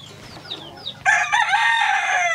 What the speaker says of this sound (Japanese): この子たちは食用のホロホロ鳥です。